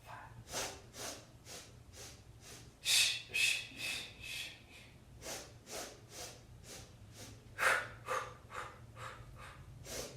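Heavy rhythmic breathing during a traditional Pilates class exercise, with repeated sharp, forceful exhales and inhales in a steady pumping pattern, close and fairly quiet, with no talk.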